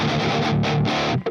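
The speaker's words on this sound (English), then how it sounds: "When you add the Tube Screamer to it, it sounds like this." Electric guitar run through an Ibanez Tube Screamer into a Strymon Iridium distortion pedal, a short, gritty, saturated burst of strummed chords that cuts off near the end.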